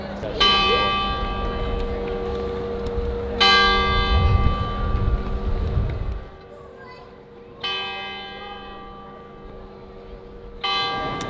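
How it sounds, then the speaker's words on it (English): Church bells ring out in several separate peals, each strike bright and resonant, then fading, with a low murmur of voices and activity beneath. "that chapel there, that church with the bells"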